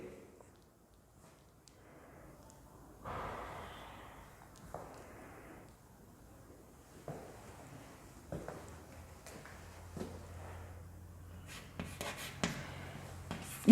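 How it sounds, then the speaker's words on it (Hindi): Pen scratching on paper in quick, uneven strokes, close and fairly quiet, with brief pauses and a faint background hum. "लिखते जाइए।"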